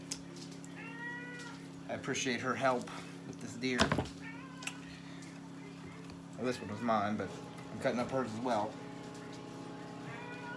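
A house cat meows repeatedly in short, insistent bursts, close by, interleaved with someone talking at a steady pace while he butchers deer, with a low constant hum underneath.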